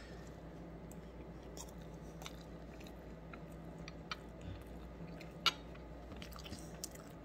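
A bite of beef and cheese quesadilla is chewed close to the mic, soft wet squishing and faint crunching in a steady rhythm over a quiet background hum, with one sharper click.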